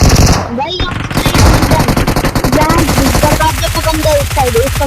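A UMP submachine gun fires in a mobile battle-royale video game, heard as loud, rapid, rhythmic bursts that continue steadily beneath someone talking over them.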